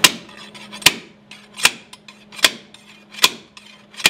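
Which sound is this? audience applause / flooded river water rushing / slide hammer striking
slide hammer striking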